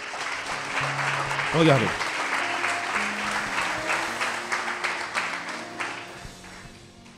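A church congregation claps and cheers in praise of the Lord, loud sustained applause filling the hall for several seconds, while a voice briefly speaks over it.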